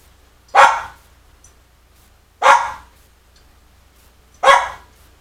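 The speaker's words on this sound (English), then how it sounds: "I can't control my dog." A dog barks three times, loud and close, each sharp bark separated by about two seconds of quiet with a faint low hum underneath.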